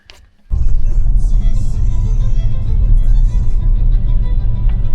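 A car drives along a country road on the Waterfall Way near Dorrigo, a loud and steady low engine and tyre rumble that starts abruptly after a brief quiet moment and holds constant throughout.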